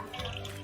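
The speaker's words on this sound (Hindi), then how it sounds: "पानी का नल का खुला हुआ है" A cartoon water tap left open gives a brief, soft burst of running, splashing water heard on its own.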